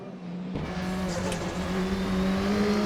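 A Volvo 240 Turbo touring car in a racing game at Knutstorp Ring; engine drone kicks in abruptly and climbs in pitch as it accelerates, with turbo whine and a rising tonal note, loud and steady.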